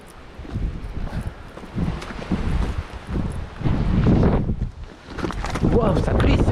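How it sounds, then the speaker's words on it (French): Strong mountain wind buffets the microphone on a Pyrenees hiking trail in gusting, rumbling surges that build louder toward the end. "le vent il ne faiblit pas quoi. Au contraire, j'ai l'impression qu'il s'accentue."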